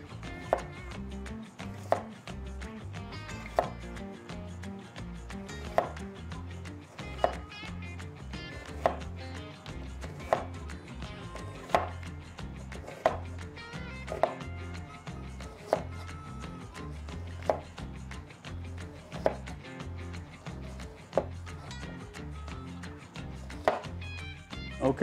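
Red onions sliced with a knife on a cutting board, steady repeated chops in an even rhythm, close and fairly quiet, with no talk.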